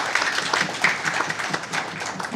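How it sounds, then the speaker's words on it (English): An audience at an entrepreneurship week business event claps for DAREEM, giving a moderately loud, brief burst of clapping with individual claps distinguishable. "A round of applause for DAREEM,"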